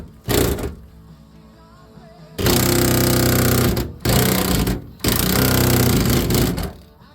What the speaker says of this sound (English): My impact went dead as I had the last bolt on the run there.